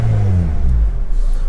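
Close, loud engine rumble from a Ford Fiesta as it revs with a falling pitch, then keeps a deep throb.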